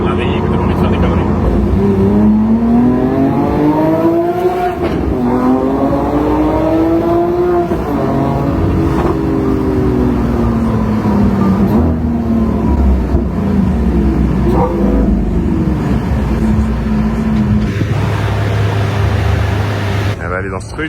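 A Lamborghini Aventador SVJ sports car driving and revving loudly up close, its engine note rising and falling in long sweeping pitch climbs over steady road and cabin noise, settling to a low idle at the end.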